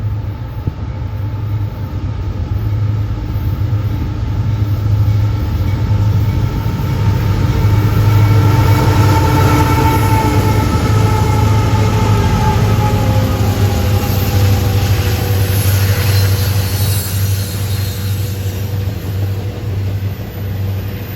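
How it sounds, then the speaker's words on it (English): A long, steady rumble of an eastbound Union Pacific freight train rolling past nearby on the Metra/UP West Line, with a low droning engine and continuous wheel noise, no voices. "we have an eastbound UP freight at 11:05"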